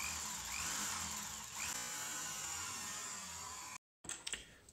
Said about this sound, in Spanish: taladramos lo que son los extremos para meter el taco